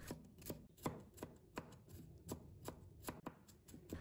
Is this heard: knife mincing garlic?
yes